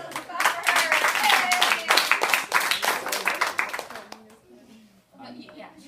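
Classroom audience claps for a student at Chief Sealth International School, a dense burst of close applause with cheering voices that thins after about four seconds, leaving quieter room sound and faint talk.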